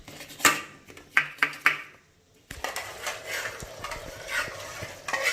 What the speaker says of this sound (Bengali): এবার অমলেটগুলোকে টুকরো টুকরো করে কেটে ওই চিকেন ঝাল ফ্রাইজের সঙ্গে আমি মিশিয়ে দেবো